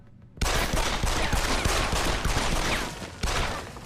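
Gunfire in Deus Ex: Human Revolution rattles out as a dense, loud fusillade of rapid shots and impacts that barely lets up across the few seconds.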